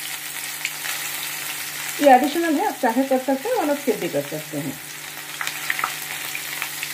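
Onion tadka sizzles in the oil left after frying fish, a continuous hissing crackle that stays close and steady while someone talks over it for a few seconds.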